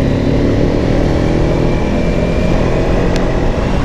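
Steady engine drone of a Modenas Kawasaki Ninja 250i motorcycle being ridden on a road, a continuous close, loud hum with constant pitch and no talking.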